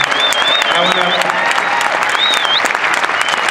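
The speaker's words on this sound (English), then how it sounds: "Let's give a huge round of applause to the co-founders" An enthusiastic crowd applauds the ACN co-founders at a rally, with thick, continuous clapping, scattered whoops and whistles rising above it.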